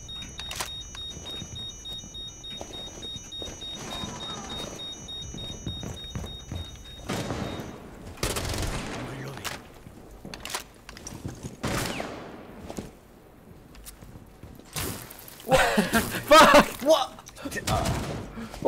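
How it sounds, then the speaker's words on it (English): Gunfire in the tactical shooter game Rainbow Six Siege, sporadic shots and bursts of varying loudness scattered across a busy mix with talk and game sounds, the heaviest volley coming near the end. "Hey, I'm getting shot at."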